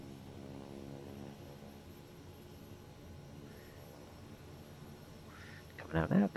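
A Kodiak aircraft engine in Microsoft Flight Simulator starts up and settles into low idle, giving a steady, fairly quiet mechanical hum with a rising whine, and some louder thumps near the end.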